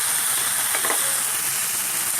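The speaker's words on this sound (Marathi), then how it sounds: "आणि पुन्हा असं छान परतून घेणार आहे।" Red chili powder and ginger-garlic paste sauté in a hot pan for khichdi masala, a close, dense sizzle with brief stirring scrapes, no talking.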